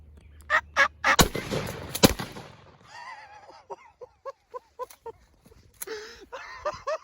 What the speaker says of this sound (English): there was actually a third bird gobbling with those other two